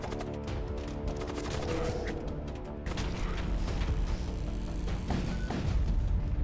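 Rapid bursts of bolt cannon fire in the video game Void War crack and boom repeatedly, dense and loud, layered with game explosions.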